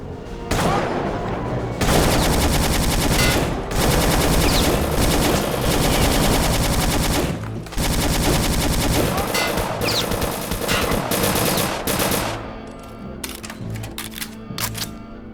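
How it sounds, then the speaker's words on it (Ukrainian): Sustained bursts of rapid fire from a mounted machine gun in Return to Castle Wolfenstein rattle loudly and almost continuously, broken by short pauses, with scattered shots trailing off at the end. "Так, швидко, за стаціонарний кулемет."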